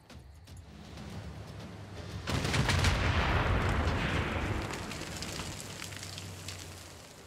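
Artillery fire on a city in Civilization VI: a muffled boom at first, then a sustained rumbling barrage of blasts and crackle that slowly fades, with no talking.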